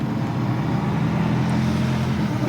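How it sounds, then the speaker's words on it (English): Jaguar Mark II engine running with its gearbox whining, a steady low drone heard from close by inside the car, even and unbroken for a couple of seconds. "hearing the original noises and the original whines of these cars"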